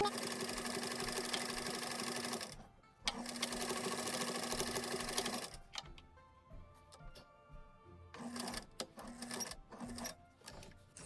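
A sewing machine stitches fabric pieces in fast, steady runs, pausing briefly between seams and then starting again in short bursts with clicks of handling, close and clear.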